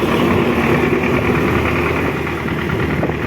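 A diesel engine of an MTZ-50 tractor idles steadily nearby, a loud, even low rumble with a constant vibrating throb and no talking.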